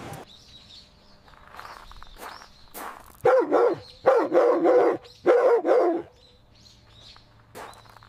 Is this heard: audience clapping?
no